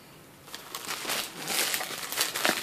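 Crinkly plastic packaging on a Dreamcast controller rustles and crackles as it is handled and pulled open, growing louder and busier, close by with no talking.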